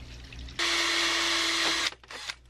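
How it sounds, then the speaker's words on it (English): A power drill drives a screw during a micro hydro electronics install: one loud, close whir lasting over a second, then a short second burst, over quiet room tone with no talking. "And I can use my drill again to the other screw."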